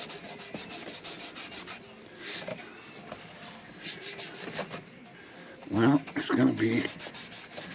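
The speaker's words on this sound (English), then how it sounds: "I'll rub some more oil in here. Get a clean part of the rag." Cloth rag rubbing oil over a vintage typewriter to lift sticker glue residue, a soft rhythmic scrubbing that grows louder and more vigorous near the end, with brief talk in between.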